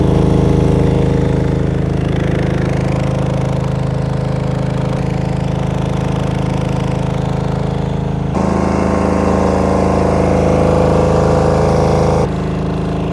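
Diesel generator FGED10500, a single-phase AVR unit, runs steadily with a loud, close, even mechanical drone and low rumble, its tone shifting slightly a couple of times as the load or speed settles.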